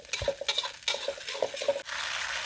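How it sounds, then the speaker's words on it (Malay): Sauce for three-flavour sea bass is stir-fried in a pan, giving a close, lively sizzle broken by quick, uneven scrapes and clinks of the spatula against the pan, with no talking. "Lepas kita tumis sekali lagi."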